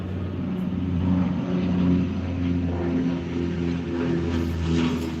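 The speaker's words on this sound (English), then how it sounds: "and the plane comes in" An airplane's engine drones steadily overhead outdoors at a nature spot, a low sustained hum that swells slightly and stays fairly loud throughout.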